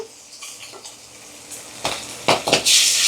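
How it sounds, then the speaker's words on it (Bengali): Tengra fish go into hot oil in a pan: faint clinks and stirring at first, then sharp sizzling bursts that build into a loud, steady crackling fry at close range. "এই যে আমি মাছগুলো ভাজতে দিয়ে দিয়েছি।"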